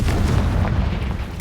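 Confringo blasting spell detonating in the Hogwarts Legacy video game, a loud, continuous boom with rumbling low end sustained through the moment, ending in a sharp burst, no voices.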